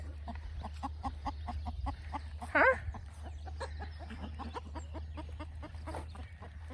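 Chickens cluck in a steady run of short, close calls, with a louder burst partway through and a person speaking briefly over them.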